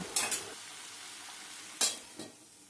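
Kochur loti (taro stolons) with fried prawns stirred in a pan, two short scraping bursts of the spatula separated by a quiet pause over a faint steady sizzle.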